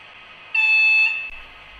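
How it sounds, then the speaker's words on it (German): A short, shrill whistle blast from a Brawa V100 model diesel locomotive, about half a second long, sounding once over a faint motor hum. "Funktion 2 – Kurzpfiff."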